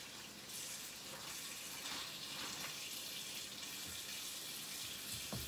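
Tap water runs in a steady, loud gush into a kitchen sink while cabbage soaks for a creamy chicken macaroni soup, an unbroken rush that is heard alone.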